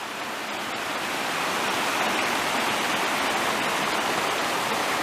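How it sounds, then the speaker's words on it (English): Creek water flows steadily and fairly close along Mill Prong Creek in Shenandoah National Park, a broad continuous rushing wash with no break, heard alone without talk. "There's Mill Prong Creek right there."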